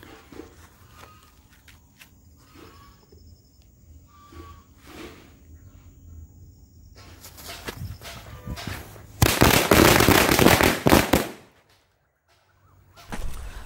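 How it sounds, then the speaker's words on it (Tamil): A Vasantha brand 100 wala firecracker string going off outdoors, with a few scattered cracks and pops first, then a loud dense run of rapid bangs lasting about two seconds before cutting to quiet. "வசந்தா ஃபயர் ஒர்க்ஸ் உடைய 100 வாலா டெஸ்டிங் வீடியோ பார்த்துருப்பீங்க"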